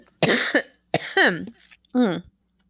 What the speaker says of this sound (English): One second, I got a cough for a second.